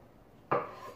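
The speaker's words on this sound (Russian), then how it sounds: "Свеклу я режу небольшими кубиками." A single knife stroke cuts through beetroot on a board while it is diced into small cubes for a classic vinaigrette salad, one sharp close chop followed by a short scraping tail.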